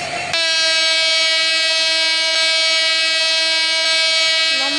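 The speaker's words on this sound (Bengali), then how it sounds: "কারণ ট্রেন চলার শুরুতে লম্বা একটা হর্ন দেয় জোরে, তো আমরা সেই লম্বা একটা হর্ন দিলাম।" A long, loud, steady train horn from the Bangladesh train simulator mobile game, starting abruptly and holding one rich, unwavering tone for nearly five seconds with no other sounds.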